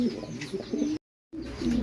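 Pigeons at a breeding and sales loft coo in low, repeated notes close by, with other faint bird calls around them and a short silent break midway.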